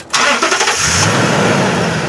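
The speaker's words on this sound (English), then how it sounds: "I'm going to turn this car on." A 2007 Toyota Tundra CrewMax engine cranks briefly and catches, then settles into a loud, steady idle close by.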